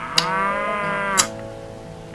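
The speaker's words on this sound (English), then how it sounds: "I'm doing cows" Cattle lowing in a farming video game, one long drawn-out moo heard loud and clear, punctuated by a few sharp clicks.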